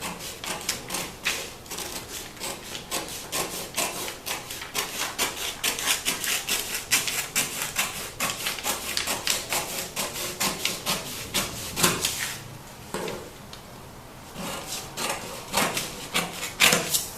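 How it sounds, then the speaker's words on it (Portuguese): Scissors cutting through a paper sewing pattern for a ruffled crepe blouse, giving a steady run of crisp, rapid snips and rustles close to the mic, with a short pause before the cutting resumes. "Agora eu vou cortar aqui o lateral frente."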